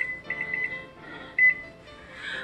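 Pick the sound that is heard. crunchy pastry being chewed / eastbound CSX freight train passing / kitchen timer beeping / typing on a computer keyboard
kitchen timer beeping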